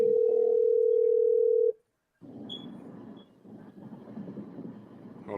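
A telephone ringback tone sounds as a single long steady tone for about two seconds while a call waits to be answered, followed by a brief silence and then a low rumbling background noise.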